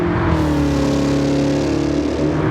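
Car engine in the No Hesi racing game on the Wangan, held at steady high revs in fourth gear near 200 km/h, a loud continuous drone with a gradual pitch rise, alone with no talk.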